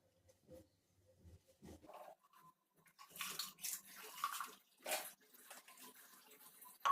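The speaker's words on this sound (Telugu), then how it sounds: "నీళ్ళు పెట్టుకుని నీళ్ళు పోసుకొని" Water splashes into a pot to brew ghee coffee, starting with quiet scattered trickles, then louder broadband gushes in uneven bursts through the second half.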